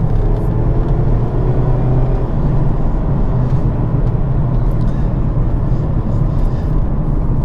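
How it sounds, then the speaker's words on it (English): Mazda MX-5 RF sports car accelerating hard, its engine droning loud and steady close by with a rising whir, mixed with road and wind noise and no talk over it. "it also has a bit more of a nicer noise when you put your foot down"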